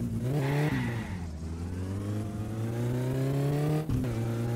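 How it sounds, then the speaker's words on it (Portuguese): The Satsuma in My Summer Car accelerates hard toward top speed, its engine droning loud and close as the pitch climbs through the gears, with brief drops at each shift. "Eu quero dar um puxão aqui com esse carro."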